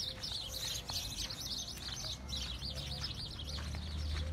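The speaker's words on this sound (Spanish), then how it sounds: "Miren, las grandes golondrinas." Large swallows chirp in quick, wavering twitters in the village of Churumuco, a steady chatter of birdsong filling the air at moderate distance, with a low rumble underneath throughout.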